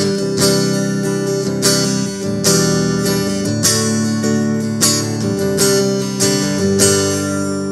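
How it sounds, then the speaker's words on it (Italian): An electric guitar runs through a Martin D35 acoustic impulse response with a volume boost, giving bright, acoustic-like chords that are struck in a steady rhythm of repeated strums, loud and close. "Quindi questo è il suono dell'IR con il boost di volume."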